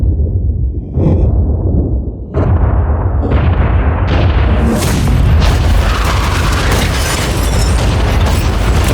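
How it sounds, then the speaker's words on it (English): A yacht is blown up in a series of loud booming explosions, several sharp blasts in the first seconds building into a sustained roaring, crackling blast that fills the rest of the clip. "2, 1, blow it up!"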